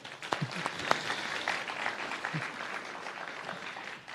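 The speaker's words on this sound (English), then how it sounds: "let's give them another round of applause" Steady applause from an awards ceremony audience, a dense wash of clapping that holds for several seconds before tapering off slightly at the end.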